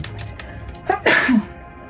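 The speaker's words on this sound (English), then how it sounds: "sneezed right there" A single sharp sneeze from a person nearby, loud and close, with a quick intake just before the main burst and a brief tail after, against a quiet room.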